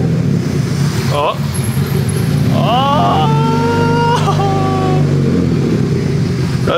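Nissan S13 engine cranking over and catching, running rough on a base map; a loud, steady engine drone fills the clip while a person exclaims partway through.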